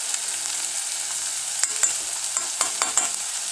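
Onions frying in a pan for chili, a soft steady sizzle with a few spoon scrapes and stirring clicks toward the end, no talking.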